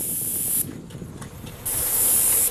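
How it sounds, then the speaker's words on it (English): A paint sprayer coats wooden shutters in two loud, hissing bursts separated by a short pause, close up and dominating the sound. "it looks like you guys are actually spraying a couple of the shutters"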